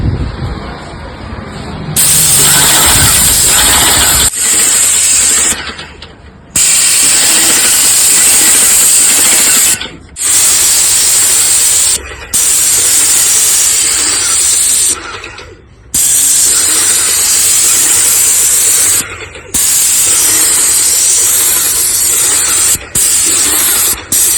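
A pressurised spray paint machine sprays paint onto a sheet in long steady hissing bursts, broken by short pauses between passes, loud and close with no talking.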